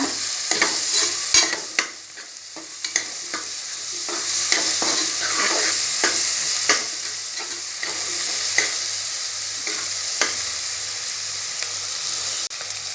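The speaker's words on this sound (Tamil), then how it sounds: "இது கூட இஞ்சி பூண்டு பேஸ்ட் ஆட் பண்ணிக்கிறேன்." Ginger garlic paste fries with onions in a pan for egg biryani, a continuous close sizzle broken by repeated scrapes and taps of a stirring spoon against the pan, with no talking.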